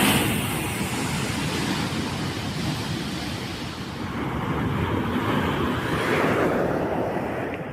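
Rough sea surging onto the central Kerala coast during heavy rain, a continuous broad roar of surf with swelling and easing waves, no voices.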